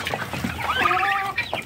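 Small chickens cluck in a short run of bright, repeated calls, close and fairly loud, with no talking over them.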